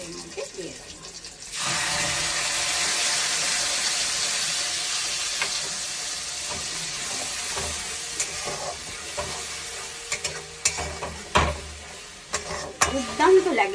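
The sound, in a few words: coriander paste added to pan, stirring and sizzling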